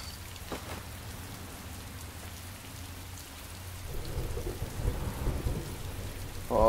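Steady heavy rain hisses throughout, with a low rumble of thunder building midway and rolling on, fairly faint and distant-sounding, with a brief voice at the very end.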